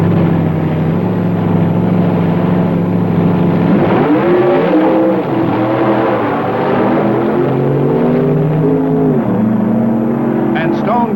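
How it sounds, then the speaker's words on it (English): Two 1965 drag race cars, a red coupe against a Stone, Woods, and Cook car, roar loudly with rising engine revs midway through, under a commentator's continuous voice. "Big John Masmanian in the red coupe meets one of the Stone, Woods, and Cook cars in an all-West Coast showdown."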